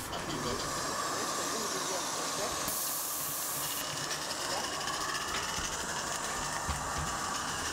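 A live steam model locomotive in 1/22 scale pulls a small train of wagons, giving a continuous loud hiss of escaping steam with a faint mechanical chuff underneath, steady throughout.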